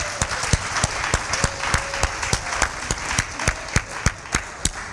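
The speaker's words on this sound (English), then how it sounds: "Give yourselves a hand clap." A church congregation claps hands in a steady, rhythmic beat, sharp evenly spaced claps carrying on throughout, fairly close and loud.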